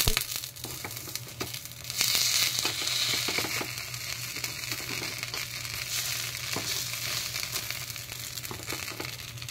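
Rice appe fry in a pan, giving a continuous loud close sizzle with scattered crackles and pops, and a few scraping clicks as the pieces are turned, with no talking.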